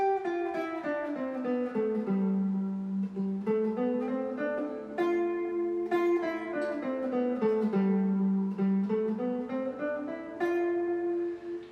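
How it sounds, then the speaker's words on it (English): A G Mixolydian scale played note by note on a sustained-tone instrument, rising and falling twice in an even rhythm, clean with no voices. "So today we're going to be talking about the G Mixolydian mode."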